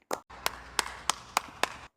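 Six sharp hand claps ring out one at a time in a slow, even rhythm, loud and close, with a faint steady hum underneath and no talking.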